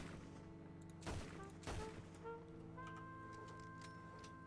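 Weapon fire in a detective video game, heard as two bursts of loud, rapid reports around one and two seconds over a steady droning game soundtrack, with a smaller pop afterward and no voices.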